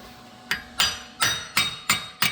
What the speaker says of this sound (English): We'll put this on backwards and just kind of smack it to see if it's locked in there or what.